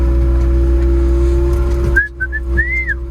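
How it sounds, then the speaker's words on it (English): A few short whistled notes rise and bend over steady engine drone, ending in a longer sliding tone. "Oh yeah, I'm not allowed to whistle, sorry Anthony. No whistling."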